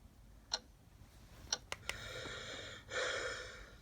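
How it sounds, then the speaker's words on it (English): A clock-ticking setting on a white noise machine, heard as a few faint, sparse ticks over a soft hiss that swells slightly toward the end. "That's just the clock ticking."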